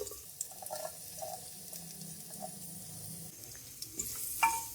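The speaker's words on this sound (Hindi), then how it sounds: "प्याज को हम हल्का सा ब्राउन करेंगे" Roughly cut onions for chicken biryani fry gently in oil in a clay handi, giving a soft, low sizzle with a few light stirring scrapes throughout.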